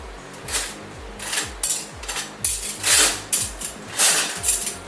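A spoon being fetched and handled in a kitchen, a series of irregular metallic clinks and knocks, close and fairly loud, alone without talk.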